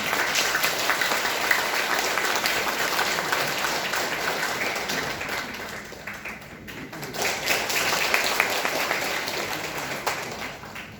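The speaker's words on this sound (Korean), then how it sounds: "황인규 회장님 나오실 때 박수로 환영해 대단히 수고 많으셨습니다" Steady applause from a sizable crowd at a Christian seminary event fills the space, briefly dipping midway before swelling again, with faint voices underneath.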